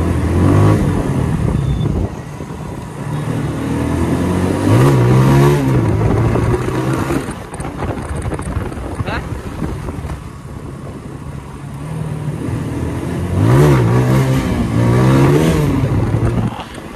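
A TVS Apache motorcycle's engine and exhaust during a ride, with a steady loud drone and rising revs in bursts, interspersed with wind rush.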